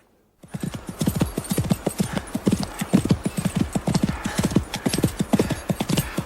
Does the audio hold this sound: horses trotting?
yes